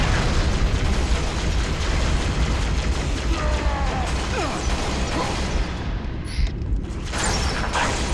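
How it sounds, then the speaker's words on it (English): Plasma pistol and needler fire from the Halo Reach video game, a dense, continuous run of bursts, pops and booms that stays loud throughout, with a brief dip near the end. "We're going to be bursting our plasma pistol, getting that headshot before we move on."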